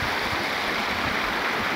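Dirty water from a farm flows in a steady, close rushing stream, a continuous broadband wash with no talking.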